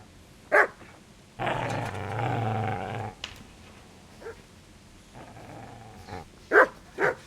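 A dog in the Kingdom Come Deliverance video game gives a sharp bark, then a sustained close growl lasting about two seconds, followed by a few more short barks near the end.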